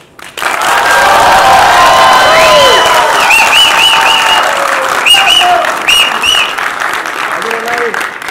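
A large audience at a film event claps loudly and continuously for the film Anjila, with scattered cheers and whoops over the sustained applause.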